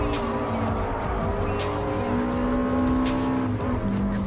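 A Subaru Impreza 22B-STi race car in the game Gran Turismo Sport howls continuously at high revs through a race lap, its loud engine tone sliding in pitch with shifts as tires squeal faintly beneath.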